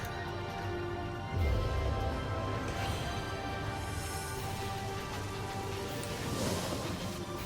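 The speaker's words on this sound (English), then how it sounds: "So, Jahan, please cast Rain." A Rain spell cast in Divinity: Original Sin brings a dense, steady hiss of falling rain that swells in after a low rumble and keeps going evenly throughout.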